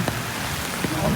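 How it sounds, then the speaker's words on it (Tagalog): Steady rain falling outdoors on a rainy day in Vancouver, a continuous broadband hiss with a few faint drip-like taps, no voices. "As you can see, rainy, rainy, rainy, rain, rain, go away."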